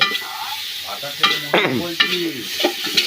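Spices are stirred and fried in a pan at an outdoor rainy-day cookout, with a sizzle under scraping stirs. Several people talk over the cooking throughout.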